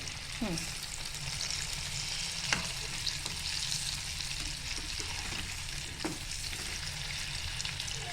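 KFC-style chicken pieces deep-frying in oil over medium heat, a dense, continuous bubbling sizzle with a few sharp clinks as the pieces are turned.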